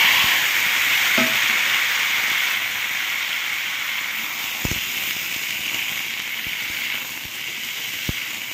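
Pumpkin and potato hit hot oil spiced with dried red chilli and cumin, producing a steady loud sizzle with a few sharp clinks and scrapes of stirring.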